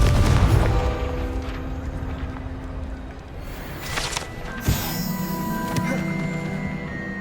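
A Confringo blasting spell goes off in the video game Hogwarts Legacy: a loud, booming explosion opens the stretch and then fades into a sustained rumble, followed by a second sharp impact and game music and effects.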